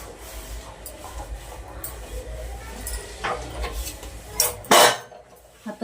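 An old, worn cotton cloth wipes a bathroom wash basin and the tiles above it, giving soft rubbing strokes with a few louder clattering knocks near the end.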